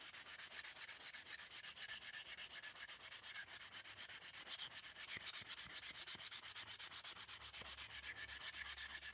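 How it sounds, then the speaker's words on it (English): A wooden mallet built from salvaged scrap wood is steadily sanded, giving a continuous rhythmic rubbing hiss that stays close and even throughout with no talking. "just make sure to give it a good sanding so that the transition is nice"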